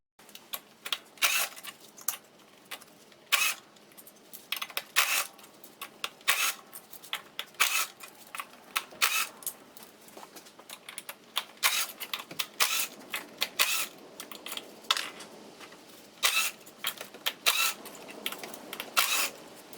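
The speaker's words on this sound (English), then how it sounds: "Then remove the 8mm bolts holding the coil packs in place." A ratchet spins out the 8mm bolts holding the coil packs on a 1992 Acura Legend engine, giving a steady run of close, crisp rapid clicks in short bursts throughout, with no talking.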